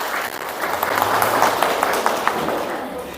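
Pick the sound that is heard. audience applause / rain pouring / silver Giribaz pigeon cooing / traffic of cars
audience applause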